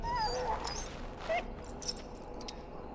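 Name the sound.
dog whimpering in pen, from video game Dragon Age: Origins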